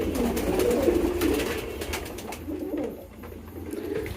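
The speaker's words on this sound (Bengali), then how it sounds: "কবুতর এইগুলা যে ডাকা ডাকি শুনতেছে" Nearby pigeons keep up a low, throaty cooing that rolls on steadily, louder at first and then easing before picking up again, with no one talking.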